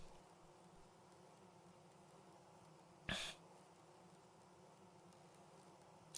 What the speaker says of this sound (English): That's why we can constantly hear bees.